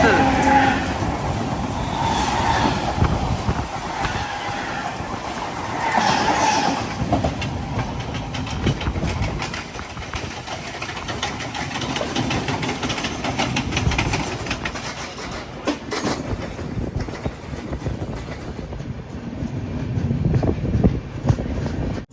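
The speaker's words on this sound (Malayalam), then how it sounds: "കല്യാൺ റെയിൽവേ സ്റ്റേഷനിലേക്ക് ഇതാ നമ്മുടെ ട്രെയിൻ എത്തുകയാണ്" A Humsafar Express rolls into Kalyan railway station, its wheels rumbling and clattering steadily on the rails, easing off toward the end, with a voice speaking over the noise.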